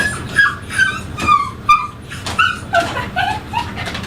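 A dog being groomed whines and whimpers in a run of high, yelping cries, about a dozen short squeals in quick, uneven succession, close and loud.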